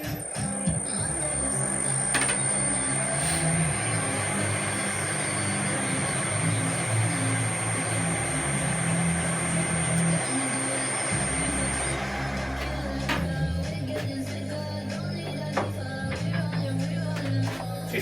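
A Harrison M300 metal lathe spindle turns at 40 RPM, powered through a HuanYang VFD inverter, giving a continuous close hum with a thin high electronic whine and light mechanical rattling throughout.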